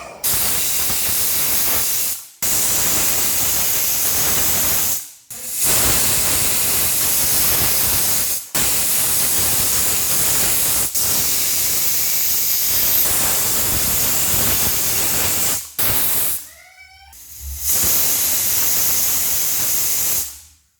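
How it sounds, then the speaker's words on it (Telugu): A pressure cooker of tomato rice on the stove blasts loud, continuous hissing whistles of steam in long bursts separated by brief pauses, close and harsh. "ఈ కుక్కర్కి మూత అయితే పెట్టుకొని ఒక 7 విజిల్స్ వచ్చే వరకు మనం దీన్ని ఉడికించుకుందాం."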